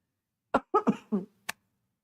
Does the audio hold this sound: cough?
yes